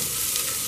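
Onion fries in a pan for a South Indian keerai masiyal lunch, giving a dense, continuous close sizzle with a soft stirring texture and no voices.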